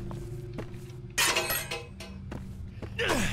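Glass panes shatter in the video game Condemned: Criminal Origins: a loud crash of breaking glass, then a second burst near the end, with duller thuds and impacts between.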